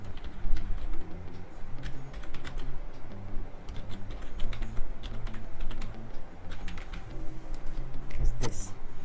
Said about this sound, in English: I will type the first name.